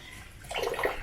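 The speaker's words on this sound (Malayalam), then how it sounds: "നമുക്ക് ജസ്റ്റ് ഒന്ന് മോട്ടർ ഓൺ ചെയ്തിട്ട് നിങ്ങൾക്ക് വെള്ളം വരുന്ന ഒന്ന് കാണിച്ചു തരാം" Water from a motor-pumped pipe during a pond and tank cleaning suddenly gushes out partway through, a short, moderately loud splashing rush after a quiet start.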